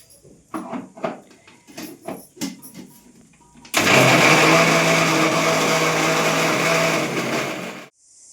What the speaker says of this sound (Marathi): आता आपण ह्याची पेस्ट करून घेऊ मस्त मिक्सरला बारीक